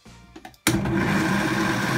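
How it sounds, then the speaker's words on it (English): A worn blender jar running on very low speed blends a raw nut-free, grain-free cracker mix, a steady loud whir starting abruptly after a few quiet knocks and continuing without pause. "I am blending this on very low"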